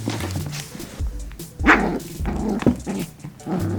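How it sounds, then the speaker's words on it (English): A new puppy barking and yipping close by, several sharp barks with small whimpering and growling sounds in between, loud and alone. "And we got a new puppy!"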